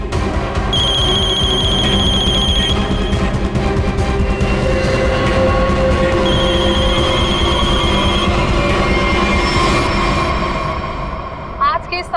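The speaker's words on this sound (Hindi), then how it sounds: "वीरेन, फोन उठाओ।" A telephone rings in repeated bursts of bright electronic trills, loud and close, with people talking over a constant background hum.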